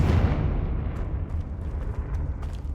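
A Confringo spell bursts in Hogwarts Legacy as a loud, booming explosion that hits at once and leaves a long rumbling roar as it slowly fades.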